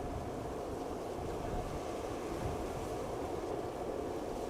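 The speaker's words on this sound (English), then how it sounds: "And those are the reversers being applied." An aircraft's thrust reversers roar after landing at Amsterdam Schiphol Airport, a dense, steady broadband rush heard at a distance, unbroken throughout.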